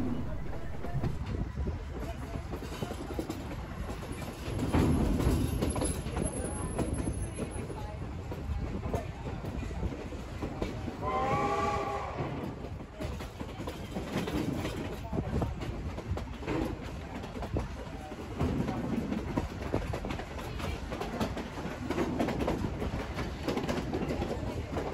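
Narrow gauge steam locomotive 480 hauling a train near Hermosa in the Rockies, picking up speed at the bottom of a grade; a steady rumbling roll of wheels and exhaust continues throughout, with a brief whistle-like tone midway.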